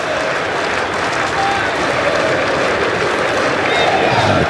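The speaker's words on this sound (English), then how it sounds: "The crowd are having a good time, but also getting into it now." Spectators at an England v India Test match applaud and murmur in a steady, continuous wash of crowd noise from a large stadium, heard from a distance throughout.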